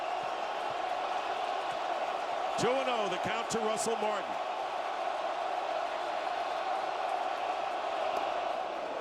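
A packed baseball stadium crowd roars steadily throughout a 2013 NLDS playoff game between Pittsburgh and St. Louis, loud and sustained, while an announcer talks over it and brief whoops and shouts rise from the fans.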